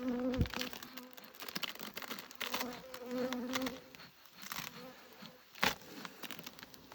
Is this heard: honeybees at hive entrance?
yes